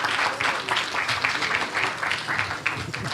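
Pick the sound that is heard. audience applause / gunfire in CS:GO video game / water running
audience applause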